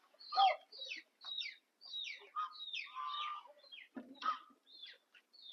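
Laying hens nesting in oil tins cluck and cackle in a string of short, close calls with brief pauses between them, no talking.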